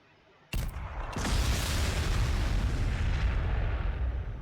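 A frag grenade detonates in the Warhammer 40,000: Sanctus Reach video game, a sharp close blast followed by a second crack and a long rumbling roar that stays loud and sustained after the impact, with no talk.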